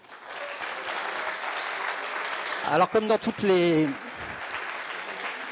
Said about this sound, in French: j'aimerais déjà que vous applaudissiez tous d'être présents